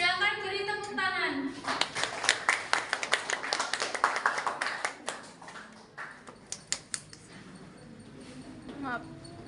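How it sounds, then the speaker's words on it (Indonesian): A small group claps for several seconds, the applause swelling then thinning out, with voices talking over it. "Silakan beri tepuk tangan."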